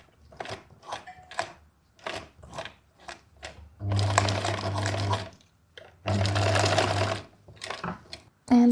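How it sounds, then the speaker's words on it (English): A sewing machine stitches a make-up bag in two steady motorized bursts of several seconds each, set between quieter clicks and handling sounds as the wheel is turned by hand for a few back stitches. "I just turn the wheel by hand, that my needle will not break and my sewing machine will not have any issues."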